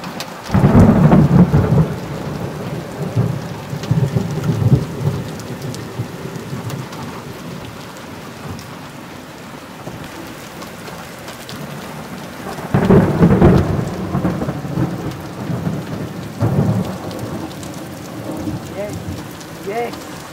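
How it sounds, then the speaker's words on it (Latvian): Heavy thunderstorm over Jelgava, Latvia, with loud rumbling thunder bursts near the start and again around the middle, under a steady roar of heavy rain and hail drumming on surfaces. "Kas par grāvieniem! Krusta turpinās, šķietam tā vienkārši nebeidz."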